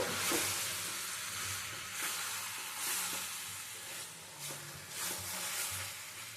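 Okra and potato dopiaza sizzling in a pan as it is stirred, a steady frying hiss with soft scraping swells and no talking.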